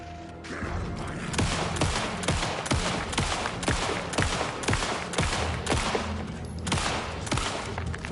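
Rapid bursts of gunfire from The Final Draft video game, with repeated sharp shots firing almost continuously and loudly throughout, closely spaced like a fusillade, with no talking over them.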